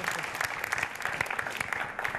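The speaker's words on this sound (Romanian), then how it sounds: "Aplauze! Aplauze și iar aplauze!" Steady applause from a crowd, dense rapid clapping sustained throughout at moderate volume.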